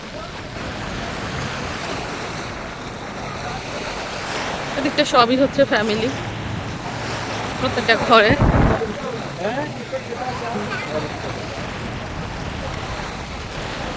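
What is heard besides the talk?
rough sea waves at the shore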